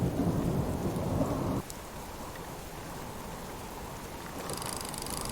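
Steady rainfall in a survival video game patters throughout, with a heavier rumbling burst at the start that cuts off abruptly, leaving softer rain behind.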